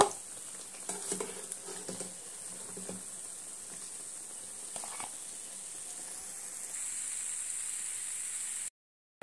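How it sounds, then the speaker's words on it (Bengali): Semolina and ghee biscuits fry in hot oil with a steady, even sizzle, joined by brief scraping and turning noises early on before a short cutoff near the end. "একই তেলের মধ্যে বাকি যে বিস্কুটগুলো আছে একই রকম করে আমি উল্টে পাল্টে সুন্দর করে লাল লাল করে ভেজে নেব"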